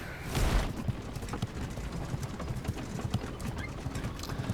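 Horse hooves clip-clopping in the video game Naraka: Bladepoint, a steady rapid galloping clatter over a dense rumbling background, with a louder burst at the start.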